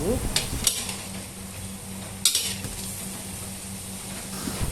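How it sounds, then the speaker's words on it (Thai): Pork belly stir-fried with garlic in a pan, a soft steady sizzle broken by a few sharp scrapes and clinks of a utensil against the pan, quiet and close. "ใส่กระเทียมที่เตรียมไว้ลงไปผัดกับหมู"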